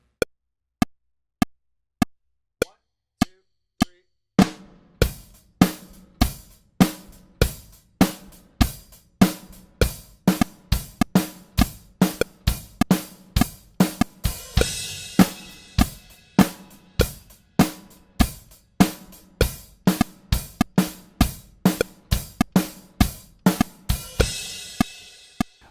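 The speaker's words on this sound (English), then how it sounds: "We're going to play 2 bars of a straight 8th note feel adhering to the 2 and 4 on the snare drum," A drum kit starts with several sharp count-in clicks, then plays a straight eighth-note groove with snare on 2 and 4 and kick drum, moving into a 3/16 implied metric modulation; crisp, close, steady hits with cymbal wash building.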